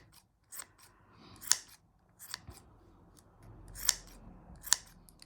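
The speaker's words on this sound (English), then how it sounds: "we just keep trimming it away until you get the look that you want" Scissors snipping yarn to trim a pom-pom, a few sharp separate cuts spaced about a second apart, close and quiet with soft handling noise in between and no talk.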